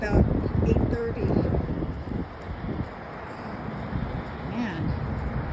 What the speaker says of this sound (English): Man, that was a bad gust of wind right there.